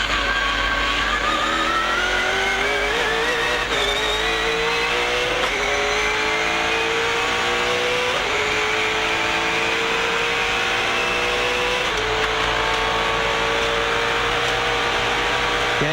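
A V8 Supercar race engine roars from an onboard position during a 1999 championship race at Calder Park, rising in pitch through the gears with repeated upshifts and steady loud drone, tire and wind noise mixed in.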